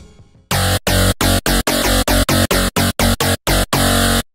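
A harsh, gritty bit-crushed synth tone from Harmor in FL Studio repeats in choppy bursts with sharp gaps between them, loud and up close, buzzing with crunchy distortion.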